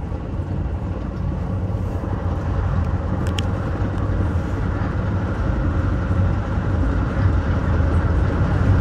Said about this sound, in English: goes an inbound Metra, probably coming from Aurora, Illinois